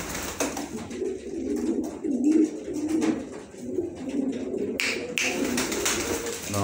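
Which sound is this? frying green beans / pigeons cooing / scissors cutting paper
pigeons cooing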